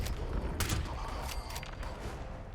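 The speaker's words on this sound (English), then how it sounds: "Who's shooting at me?" Enemy gunfire in the Fallout 76 video game, a few sharp bursts of shots cracking over a low rumbling game soundscape, loud and near.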